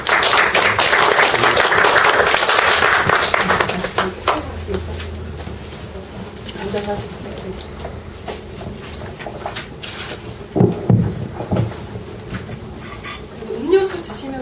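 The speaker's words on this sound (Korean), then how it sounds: "박수로 맞아주시기 바라겠습니다" At a 2015 briefing session for a local community cultural-planning support program, an audience gives dense, loud applause welcoming guests for about four seconds, then it thins into scattered claps and background talk.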